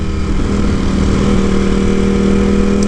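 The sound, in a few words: Ducati Panigale V4S motorcycle engine with Termignoni exhaust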